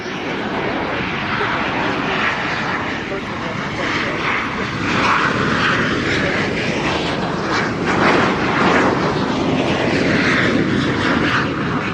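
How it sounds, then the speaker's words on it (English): An F-16 fighter jet flies a high angle-of-attack pass at an airshow, making a loud, steady, broadband roar that swells slightly and holds for the whole stretch. "a high alpha pass by the F-16, alpha standing for angle of attack"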